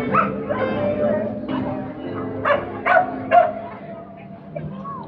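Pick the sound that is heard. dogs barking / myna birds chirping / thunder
dogs barking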